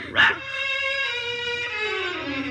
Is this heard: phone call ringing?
no